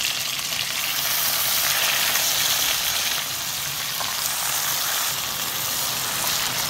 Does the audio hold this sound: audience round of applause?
no